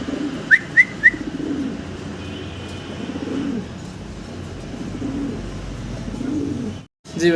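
Fancy pigeons at close range give soft throaty coos and calls, with three short bright notes early on over a steady low murmur of the loft.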